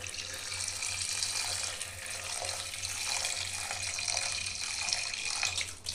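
Water pours steadily into a pressure cooker holding chana with onion, turmeric and oil, a quiet continuous splashing stream over a low hum that lasts about six seconds.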